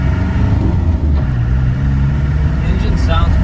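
A 1994 Land Rover Defender 90 with the 200Tdi diesel engine running, a loud, steady low rumble close by with a brief rise in revs, heard alone without talk.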